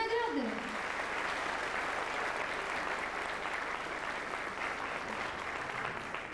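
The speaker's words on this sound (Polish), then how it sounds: "Brawa za wszystkie nagrody!" An audience at the Miss Ziemi Chojnowskiej beauty pageant applauds the prizes, with a brief voice at the start before a long, even wash of clapping continues at a steady level.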